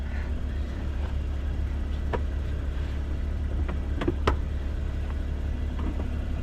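An Autozam AZ-1 engine runs quietly just after its first start, a low steady hum with a few faint clicks and knocks over it.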